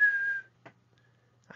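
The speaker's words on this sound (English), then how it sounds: "He whistles a tune to the window." A man whistles a short tune: one clear sustained note followed by two brief chirps after a pause, close and fairly quiet.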